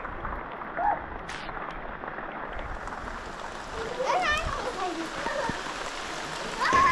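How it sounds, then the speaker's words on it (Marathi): Rain falling steadily outside a newly built house in a Konkan village, a continuous wash of hiss under scattered voices and someone speaking in the background. "पाऊस आलाय"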